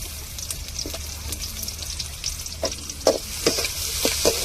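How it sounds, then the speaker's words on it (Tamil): Tomatoes and small onions sauté in a pan as the base for prawn dosa, a steady soft sizzle broken by scrapes and taps of a spatula stirring the mixture. "தக்காளி வெங்காயத்தோட நல்லா வதங்கட்டும்"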